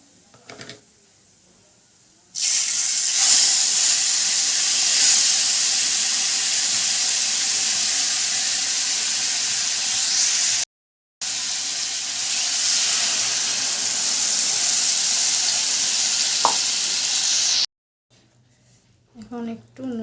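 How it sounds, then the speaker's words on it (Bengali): Ground spice paste hits a hot pan with dry red chilli pieces for a katla fish curry with raw mango, giving a loud, broad sizzling hiss that runs for about fifteen seconds with one brief break. "এখন পেস্ট করে রাখা মশলাটা দিয়ে দেব।"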